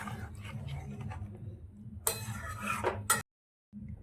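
Aloo dum, a spiced potato curry, being stirred and then poured into a bowl, with soft clinks and scrapes of a spoon against a pot and a few sharper clatters near the end.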